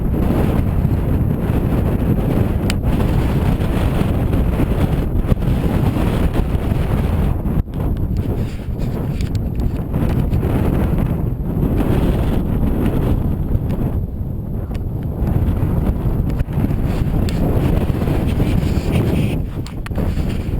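Loud, strong, cold wind roars continuously against the microphone on the hills near Waun Fach, rumbling and gusting for the whole stretch with no talking.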